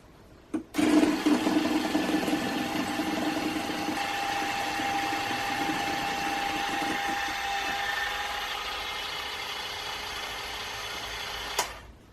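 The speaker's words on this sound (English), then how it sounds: "And now mix together until light and fluffy" An electric mixer beats gluten-, lactose- and yeast-free Victoria sponge cake batter in a bowl, switching on abruptly and whirring at a loud, steady pitch for about eleven seconds before cutting off, with no talking.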